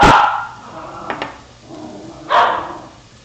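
A dog barks a few sharp times, with short yips spaced across a few seconds, fairly close and loud.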